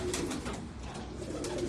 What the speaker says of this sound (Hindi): ये कौन से कबूतर है?